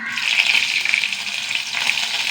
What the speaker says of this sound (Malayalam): എണ്ണ ചൂടാവട്ടെ. കുറച്ച് കടുക്, ഒരു വറ്റൽ മുളക്,